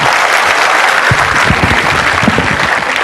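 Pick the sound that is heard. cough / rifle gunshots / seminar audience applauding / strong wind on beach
seminar audience applauding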